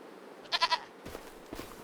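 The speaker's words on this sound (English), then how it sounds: "the goats look really healthy" Goats bleat in the Farming Simulator 25 video game, a quick trio of short, bright bleats over a steady low background, followed by fainter softer calls.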